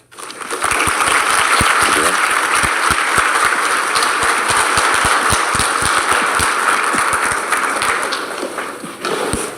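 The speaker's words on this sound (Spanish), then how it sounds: "Invitamos con un fuerte aplauso al doctor Flores" Sustained applause from an audience at a legal conference on disciplinary law, welcoming Doctor Flores, a public-law author, to speak. Dense, steady clapping holds loud and even for most of the stretch, then fades slightly near the end.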